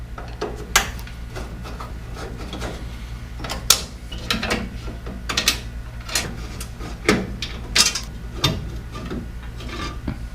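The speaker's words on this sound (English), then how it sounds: "We're going to have 4 Phillips head screws on all 4 corners right here. So let's start by getting those out." Phillips head screws being backed out of the headlight surround on a 1966 Ford Mustang: close, repeated scraping and ratcheting clicks of a screwdriver in irregular bursts over a low steady hum, with no voices.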